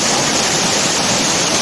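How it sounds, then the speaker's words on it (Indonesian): Batang Taye waterfall in Silokek Geopark, West Sumatra, roars with a loud, steady rush of falling water, close and constant with no talk. "air terjun Batang Taye"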